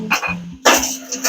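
A dog vocalizes in a drawn-out, howl-like cry, fairly close and moderately loud, wavering in two short phrases with a brief pause between them.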